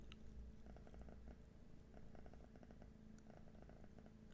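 A recently operated-on cat purrs softly and steadily up close, a low continuous rumbling hum with gentle rhythmic pulses that runs through the whole quiet clip and is heard alone.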